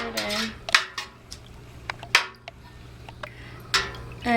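A spoon stirring food coloring into milk in a metal pot, sharp scattered clinks and scrapes of utensil against the pot at irregular moments over a faint steady hum.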